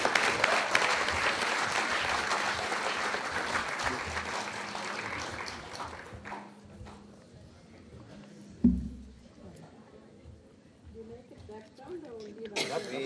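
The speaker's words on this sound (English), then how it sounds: "A big hand of applause for him." Sustained applause from a conference audience for an award winner at an international counselling conference, loud and dense at first, then thinning into scattered clapping and faint voices.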